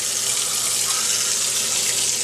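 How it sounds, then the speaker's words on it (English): A kitchen faucet pours a steady, loud stream of water into a sink, a constant bright hiss with no pauses and no voices. "Put it in your sink and turn on your faucet."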